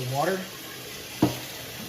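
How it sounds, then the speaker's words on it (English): Tap water runs into a kitchen sink to rinse rice, a steady broad rushing splash with a brief voice and a short knock partway through. "you're gonna need to lay it over the sink, pour water into it"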